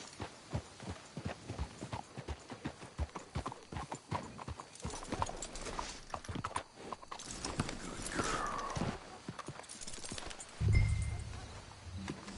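Horse hooves clip-clop steadily at a walking pace in a Red Dead Redemption 2 game scene, the rhythmic thuds close and continuous, with a brief whinny-like rise near the end.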